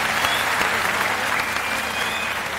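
A studio audience claps steadily and continuously for a comedy show, a dense wash of applause filling the whole stretch without pause.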